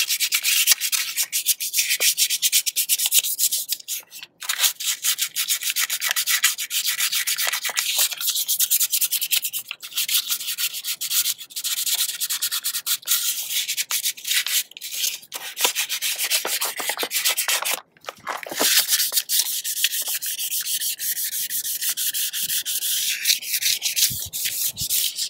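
Hand sanding of a car wheel ahead of rattle can spray painting: steady, continuous scratchy rubbing strokes, close and fairly loud, running nearly unbroken with a couple of brief pauses and no talking.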